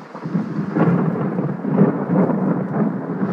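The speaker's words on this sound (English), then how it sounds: "I don't like the sound of that. Thunder." Deep rolling thunder with no rain falling yet, a loud low rumble that swells and lingers for a few seconds, close and alone with no talking.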